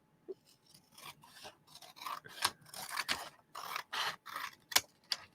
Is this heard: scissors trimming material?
yes